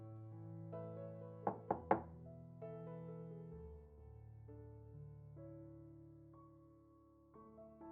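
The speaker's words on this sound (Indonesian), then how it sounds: "Ketukan pintu membuat Mama dan anak ini menoleh ke arah suara" Three quick knocks rap on an office door, crisp and close, set against a soft sustained musical backdrop that continues alone afterward.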